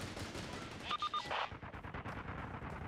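Rapid bursts of automatic gunfire crackle in a Caliber video game match, with a short cluster of sharp shots in the middle and scattered fainter shots around it.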